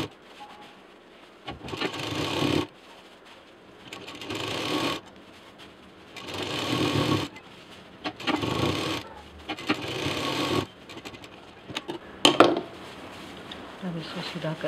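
A sewing machine stitches a fabric tiffin bag, joining the seam all around in repeated bursts of fast mechanical whirring about a second long, separated by short pauses, heard close up.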